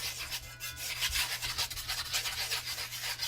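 A small whisk scrapes and stirs briskly against a stainless steel pan, working out lumps in a thickening mixture, with a steady close-up rubbing and scratching texture and no talking.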